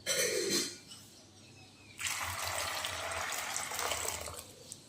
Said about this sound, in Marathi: याच्यामध्ये पाणी टाकून याला आपण स्वच्छ धुवून घेऊया